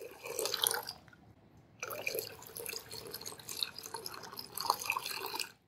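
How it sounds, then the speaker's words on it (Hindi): Water pours steadily into an old non-stick pan in a home kitchen, a running splashing stream for about a second, a brief pause, then pouring again for several seconds, close and clear with no talk. "अब इसमें आपने पानी डालना है, इतना पानी डालें कि ये आधा भर जाए।"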